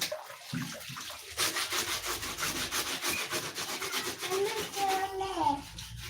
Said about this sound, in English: These are the dirtiest shoes here. I have to wash them like this.